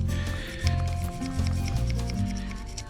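A reloading brush scrubs old varnish off a part on a 35-ton log splitter, giving a close, continuous bristly rubbing with faint pulsing strokes throughout.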